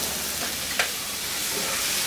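Chicken and vegetables stir-fry on high heat for a Chinese-style dish in little oil, giving a constant close hiss of sizzling with one brief clack of a utensil partway through, and no voices.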